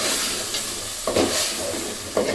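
Ground spices are stirred in a pan for a beef and radish curry, a close, steady frying hiss with a few quick scraping stirs of the spoon.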